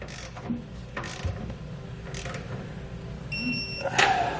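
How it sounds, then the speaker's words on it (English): A ratchet wrench torques the underbed and side frame bolts of a B&W custom installation kit with base rails on a 2020 Chevrolet truck bed, giving several close bursts of rapid clicking with short pauses between them. "We can then go back and torque our hardware to the specifications found in our instructions."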